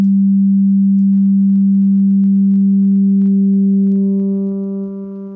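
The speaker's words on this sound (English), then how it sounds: "This is obviously operating as a full-on distortion unit at the moment." A steady test tone driven through a transistor console-emulation plugin set to heavy distortion, sounding as a loud, constant buzzy pitch with stacked harmonics that thicken and roughen near the end.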